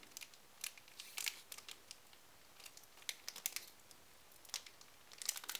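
A plastic wrapper on a Dragons Exaltés trading card tripack is crinkled and torn open by hand, giving close, quiet, irregular crackles and rustling snaps scattered throughout with brief gaps.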